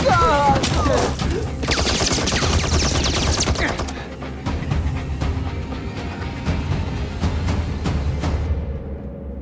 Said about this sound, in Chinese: 全体集中火力射击！